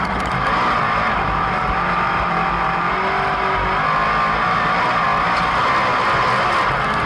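Race cars battling around the oval at LaSalle Speedway during a twin 25-lap event, a loud, continuous roar of several engines droning together without a break.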